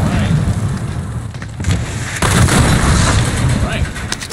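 Gunfire in the battle royale game Warzone, dense crackling shots and booms layered over loud continuous game noise, with a voice talking briefly.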